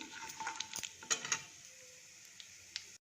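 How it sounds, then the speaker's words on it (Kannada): Mustard seeds, chana dal, urad dal, cumin and fenugreek spluttering in hot oil, a faint crackling sizzle with a few sharp pops near the start that then settles to a quiet hiss. "ಎಣ್ಣೆ ಕಾದಿದೆ. ಸಾಸಿವೆ, ಕಡಲೆಬೇಳೆ, ಉದ್ದಿನಬೇಳೆ, ಜೀರಿಗೆ, ಸ್ವಲ್ಪ ಮೆಂತ್ಯ ಹಾಕ್ತಾಯಿದ್ದೀನಿ. ಇದೆಲ್ಲ ಸ್ವಲ್ಪ ಚಟಪಟ ಅಂತ ಸಿಡಿಲಿ."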